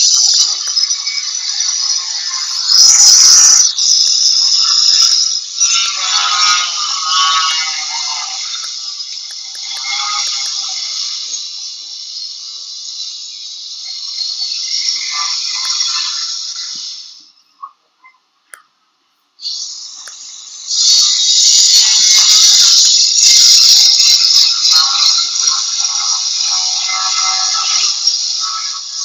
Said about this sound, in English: They're doing construction next door.